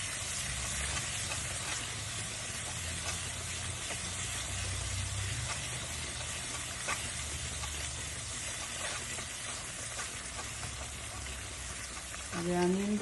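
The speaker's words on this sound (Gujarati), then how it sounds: "દહીં નાખીને એને એકદમ મિક્સ કરી નાખવાનું" Yogurt stirred into hot oil and masala in a pan, a steady soft sizzle and frying hiss running throughout, with a faint scrape of stirring near the end.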